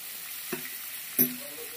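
Two short pops of hot oil spitting in a pan while dal is being cooked, separated by about a second, over a faint, steady sizzle.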